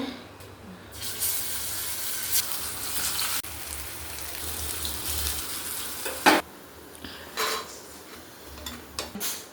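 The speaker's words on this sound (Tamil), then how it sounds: "வாழைக்காய் ஊறிடுச்சுங்க, எண்ணெயில் போட்டு எடுத்துக்கலாம்." Raw plantain slices fry in oil, a dense crackling sizzle with bursts of louder spitting and occasional clatter, close and continuous.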